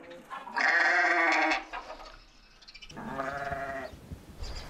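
Sheep bleating from a pregnant ewe on a ranch: two drawn-out, wavering bleats, the first loud and close, the second a little softer after a short pause, with faint farm background between them.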